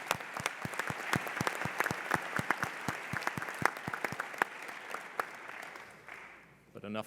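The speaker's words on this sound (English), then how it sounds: "let's have a huge round of applause for all of the officials" At a national middle school science competition, an audience claps for the officials, many sharp claps over a dense patter that goes on for several seconds and then fades near the end.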